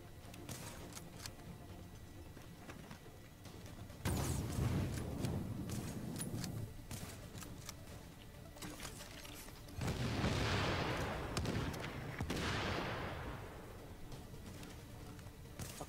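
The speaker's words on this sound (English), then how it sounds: "Kinda nice to watch them just explode." Repeated booming explosions in The Division, a co-op shooter game at a napalm production site, broad rumbling blasts with hissing decays layered over constant dense battle noise.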